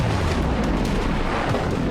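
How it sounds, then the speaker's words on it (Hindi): Heavy bombing rumbles through news footage of strikes in Iran, with deep booming blasts and a constant roar of low, loud noise across the whole clip. "ईरान में लगातार बमबारी हो रही है"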